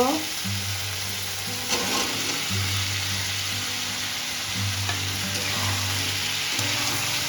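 Fish roe frying and being stirred in a pan, a loud, close, continuous sizzle with steady crackle and occasional scraping of the spoon, heard alone.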